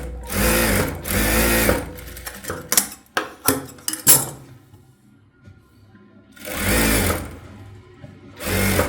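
Sewing machine stitching a blouse in two loud sustained whirring runs, separated by a stretch of quiet clicks and handling knocks, with no voices.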